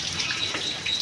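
Water runs and splashes steadily outdoors in the rain while dishes are washed, a continuous close hiss of flowing and pattering water, with no voices.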